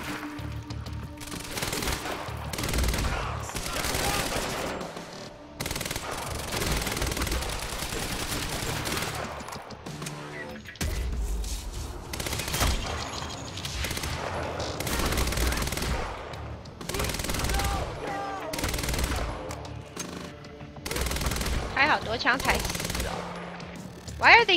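Sustained automatic gunfire in the video game Quantum Break, long rattling bursts broken by short pauses, loud and close throughout, with a voice occasionally speaking underneath.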